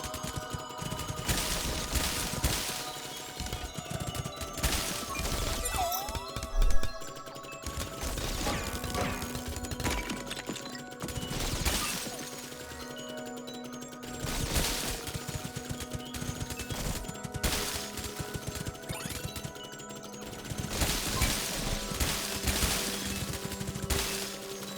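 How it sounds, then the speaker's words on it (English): Rapid shots and impacts ring out in Minishoot' Adventures, bursts of sharp crackling fire coming in clustered waves over tonal game music, fairly loud throughout and with no voices. "That's a lot of big dark bullets."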